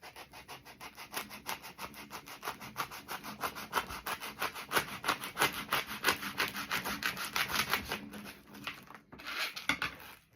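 A Scrub Daddy sponge is cut by hand with a blade in a rapid series of close scraping, rasping strokes that build in intensity, then end with a few separate scratches.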